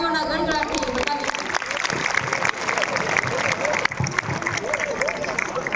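An audience claps together at a school Republic Day event, loud and sustained, and voices mix into the applause.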